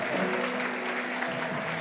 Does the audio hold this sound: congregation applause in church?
yes